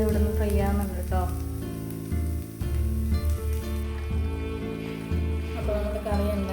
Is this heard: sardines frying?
yes